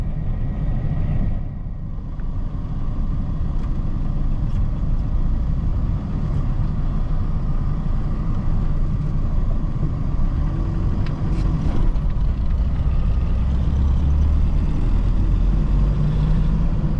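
A Tata Xenon pickup truck on the move, a steady, continuous low engine and road rumble close by, heard alone without speech throughout.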